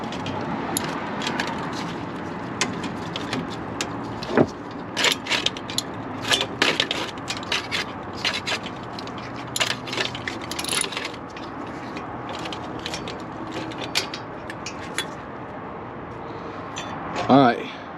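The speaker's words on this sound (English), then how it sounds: "finally got all the nuts off" Ratchet wrench clicking as it loosens nuts on the turbo actuator of a 2007 Freightliner Columbia with a Detroit 60 Series 14 L engine; irregular bursts of sharp metallic ratcheting over shop noise, close up, with a voice talking in the background.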